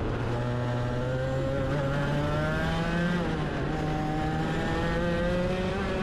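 A competition kart engine drives laps at higher speed, a loud steady buzzing drone close by whose pitch rises and falls gently with throttle for the whole stretch, without any voices.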